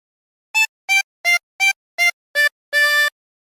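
A harmonica plays a short melodic phrase from the Squid Game theme: six brief, evenly spaced reedy notes followed by a longer held final note, clear and close with no talking.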